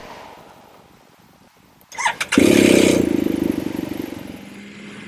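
BMW F800GS motorcycle, a 2010 model with stock crash bars, cranks with a short starter whir and catches into a loud, close rumbling idle that settles and slowly fades.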